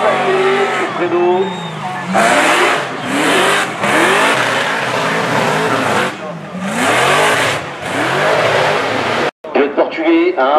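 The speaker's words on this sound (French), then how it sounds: "c'est dingue le bruit de ce moteur, c'est monstrueux" A loud drift car engine revs hard and repeatedly at a drift championship, rising and falling with tire squeal, as people talk excitedly over it.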